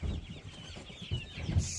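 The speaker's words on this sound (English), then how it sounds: "This is another laying hen." A laying hen with feathery feet clucks softly and repeatedly nearby, a low, rhythmic chain of short throaty notes without any talking.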